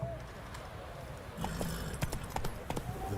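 Roach, a horse in the Witcher 3 video game, trots with soft rhythmic clip-clop hoofbeats over a low ambient bed, with a few brighter hoof strikes toward the end.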